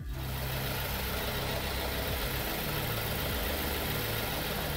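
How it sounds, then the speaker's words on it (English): A car engine idles steadily right after automatic transmission oil is filled on a ZF6HP19 gearbox, a close, even low rumble that holds for the whole stretch with no talking. "Now that the engine is running"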